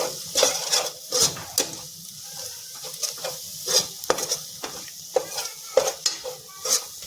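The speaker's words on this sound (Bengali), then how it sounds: "এই মশলাটা দিয়েও আমি ভালো করে কষিয়ে নিচ্ছি।" Spice paste sautéing in a pan for green chicken, repeated scraping stirs of a spoon against the pan over a low sizzle, close and uneven in rhythm with about a dozen distinct strokes.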